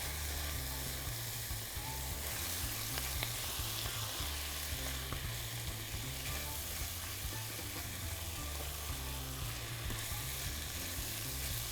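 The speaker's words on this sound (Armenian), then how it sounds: "Լավ խառնում եմ, որպեսզի կարաջիկներն էլ այդ համեմունք փոլորը վերցնեն ու արդեն սկսեն եփելու։" Chicken gizzards fry in a pan with spices, bay leaf and a cinnamon stick, giving a loud, steady close sizzle broken by scraping stirs, with no voices.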